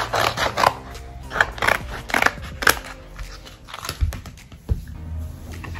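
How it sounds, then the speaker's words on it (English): Scissors snip through excess heat transfer vinyl cut on a Cricut, a series of close, crisp crunching cuts in an irregular rhythm, with a few heavier snips toward the end. "you're gonna cut the excess vinyl, because you can reuse the other piece that didn't cut"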